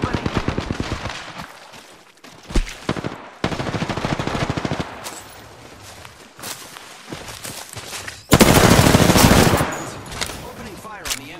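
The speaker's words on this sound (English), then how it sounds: "Opening fire on the enemy." Rapid automatic gunfire crackles in bursts during an Apex Legends match, with an R-301 rifle in play, mixed with footsteps and game sounds, and one loud sustained volley near the end.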